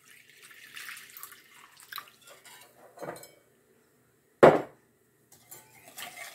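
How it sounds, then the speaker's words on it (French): A whisk stirs warm milk with sugar and baker's yeast in a bowl, making soft scraping and light clinking close by, broken by one loud metallic clank. "et je mélange avec un fouet"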